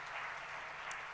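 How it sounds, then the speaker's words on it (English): Faint applause from a graduation audience at a coaching group ceremony, a soft continuous patter of clapping heard at a distance for about a second. "So let's give her a clap as well."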